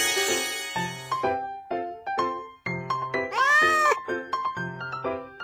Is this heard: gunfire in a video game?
no